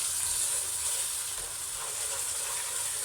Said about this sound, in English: you're going to cook off your tomato puree with your water for 2 or 3 minutes